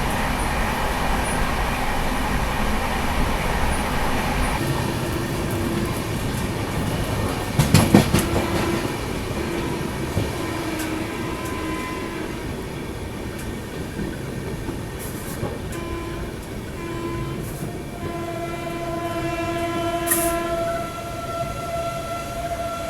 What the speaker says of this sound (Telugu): ట్రైన్ మూవ్ అయిపోతుందండి, నేను కూడా బయలుదేరుతున్నాను